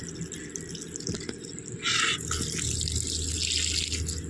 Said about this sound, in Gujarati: પાણી છૂટવાનું ચાલુ છે વટાણામાં, ચોળીમાં, બધા પાણી છૂટવાનું ગાઈસ ચાલુ છે અત્યારે